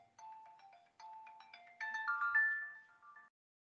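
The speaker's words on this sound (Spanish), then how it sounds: "está que me llama por teléfono, creo, el hospital" Phone ringtone for an incoming hospital call: a melodic electronic tune of bright repeating notes, two short phrases then a longer rising one, clear and alone before stopping.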